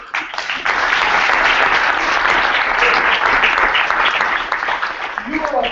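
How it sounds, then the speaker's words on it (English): A crowd at a business road-tour event bursts into applause after a short quiet moment, with loud, steady clapping from many people and some voices near the end. "You were afraid to clap that time, weren't you?"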